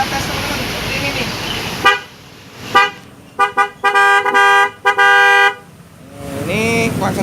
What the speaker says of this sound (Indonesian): Ini klakson Denso waterproof.